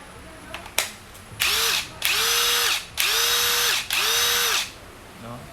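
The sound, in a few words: Ozito cordless drill running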